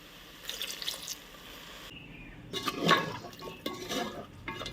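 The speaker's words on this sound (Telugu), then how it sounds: "కొన్ని వాటర్ వేస్తున్నా." Water poured into a cooking pan for a spicy brinjal and chickpea curry, a short splashing trickle and drip at close range, fairly soft, with no talking.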